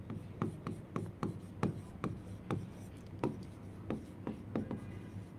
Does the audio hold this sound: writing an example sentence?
yes